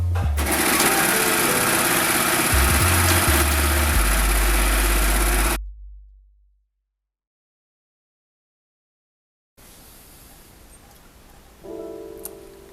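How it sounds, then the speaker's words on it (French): A serger overlocks the edge of a trouser fly facing, its dense motor whir loud and steady for about five seconds before cutting to silence, then a quieter room hum returns. "Surjetez votre parmenture"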